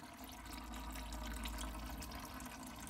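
Coolant water drains from the engine of a Smart ForTwo 450 during DIY repair work, a steady, faint trickling and splashing of liquid with a low hum underneath.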